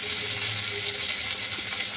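Potatoes and carrots with a pinch of salt fry gently in a pan on a low flame, giving a quiet, even sizzle with faint stirring noises and no talk.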